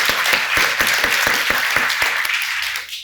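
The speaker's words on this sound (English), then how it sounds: "So I'd ask you to give them all a great round of applause." Conference audience applauding a panel on ESG and credit ratings, a steady wash of many hands clapping for about three seconds before tapering off.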